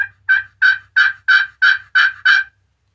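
Eight sharp, evenly paced yelps from a glass-surfaced turkey call scraped with a carbon striker, bright and high-toned, played up close with no voices.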